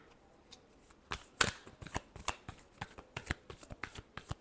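Tarot cards are shuffled close up in a quick, irregular run of crisp riffling slaps and flicks, about a dozen bursts over a few seconds, with no talking during them.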